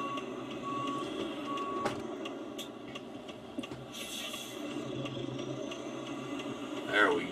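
A Peterbilt 389 truck runs with a low, steady engine rumble heard from around the cab, overlaid by repeated beeping tones and scattered clicks, with some talking in the background.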